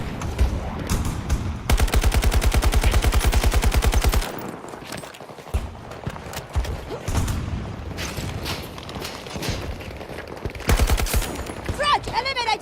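Gunfire in Battlefield 2042 during a multiplayer match, including an NTW rifle, with a sustained rapid burst of shots followed by scattered loud reports and booms, and a voice talking intermittently.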